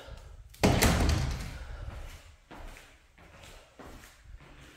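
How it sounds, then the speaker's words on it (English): Doors in a house room are pushed shut: one loud slam near the start, then a few softer thuds and knocks follow at intervals, close by in a quiet room with no speech. "Let me close the doors if you want to see what it's like with the doors shut."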